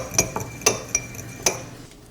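Egg yolk and fresh milk being beaten in a bowl for a mooncake glaze: several sharp metallic clinks of a utensil against the bowl, irregularly spaced, close and fairly quiet, with no talking.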